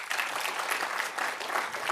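Seminar audience applauding, a dense, steady patter of many hands clapping together, close and fairly loud throughout a short burst.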